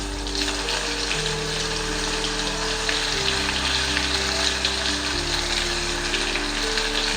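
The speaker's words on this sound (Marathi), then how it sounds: "दोडका थोडासा फ्राय होऊ देणार आहे मी तेलामध्ये" Chopped ridge gourd frying in oil in a kadhai, a continuous close sizzle and hiss that holds steady throughout with a faint low hum beneath it, no voices.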